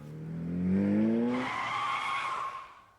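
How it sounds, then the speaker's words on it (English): A loud car engine revs upward in the Umamusume Pretty Derby video game, then breaks into a long, harsh tire skid that holds for over a second before fading out. "An engine this loud could only mean..."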